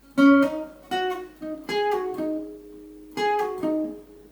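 Slow guitar phrase, plucked single notes and short chords, slightly palm-muted, each note ringing briefly before the next, clear and close with no talking.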